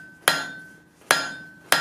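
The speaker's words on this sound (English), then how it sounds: "now we're going to go ahead and draw down a short section of this 1/2 inch round bar" A hammer forges a 1/2 inch (12 mm) round steel bar, drawing it down for a coal rake. Three sharp, ringing blows land about a second apart, each ringing briefly before fading.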